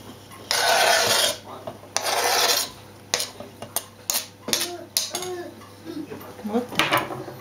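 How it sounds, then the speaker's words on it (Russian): Boiled eggs are crumbled into a rice salad and sugar is added, heard as two long, raspy scraping passes followed by a run of light clinks, taps and scrapes of utensils against a dish. "Покрошим вареные яйца и добавляем сахар."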